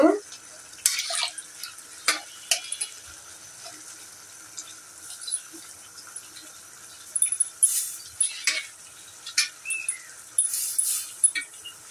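Bitter gourd tossed into a pan of chicken neck curry being fried and stirred, with intermittent spoon scrapes and bursts of sizzle against a quiet background.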